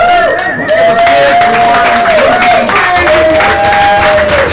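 Open-mic audience at Sacred Grounds Cafe in San Francisco applauding and cheering a performer, steady dense clapping with crowd noise throughout, a sustained tone running above it.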